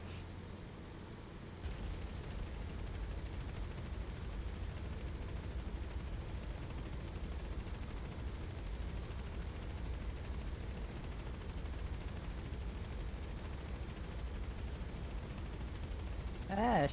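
Sustained gunfire rumbles through a DCS World 2.5 combat flight simulation, a dense, continuous low roar with crackling bursts, fairly loud and steady for most of the stretch, with a brief rise right at the end.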